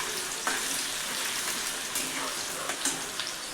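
Sliced onion drops into hot oil already laced with spices and fries with a dense, steady crackling sizzle, close and fairly quiet, with a few sharper pops along the way.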